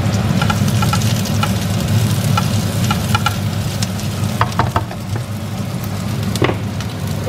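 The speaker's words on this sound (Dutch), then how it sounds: "Zo, we bakken de bonen even lekker mee." Steady, loud sizzling of beans frying in olive oil with onions and tomatoes in a hot pan, with scattered crackles and the occasional scrape of stirring, no talking.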